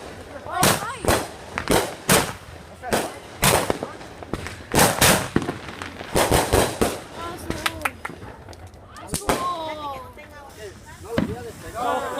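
Fireworks burst at a beach on July 4th, a rapid series of loud, sharp bangs and crackles through the first half, thinning into scattered pops, with excited voices talking and shouting over them.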